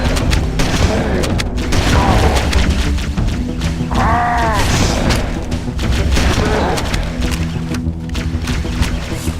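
In Halo: Combat Evolved, rocket launcher blasts come as heavy, repeated booms amid loud ongoing combat noise, with gunfire, impacts and sweeping whooshes. Dense, loud and constant throughout.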